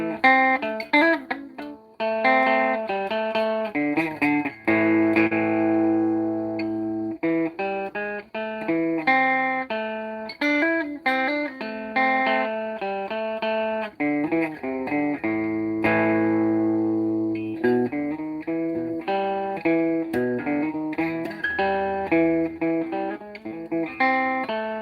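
An electric guitar with heavy distortion plays a busy, choppy riff of rapid note runs and held bends that rings loud and steady for the whole stretch.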